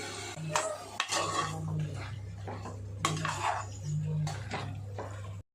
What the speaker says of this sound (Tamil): அது வதங்கினவுடன் மட்டன் போட்டு வதக்கணும்.